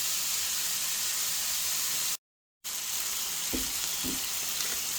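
Steak and potatoes sizzle steadily on a griddle in a continuous hiss, broken by a brief gap of silence midway, with a few soft clinks near the end.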